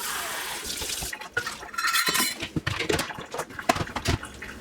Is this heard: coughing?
no